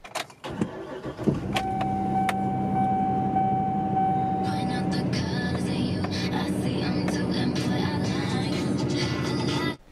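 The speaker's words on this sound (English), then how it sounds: "let's fire up the truck and see what happens" A work truck engine cranks and turns over, then settles into a steady running rumble up close, with music-like tones layered on top.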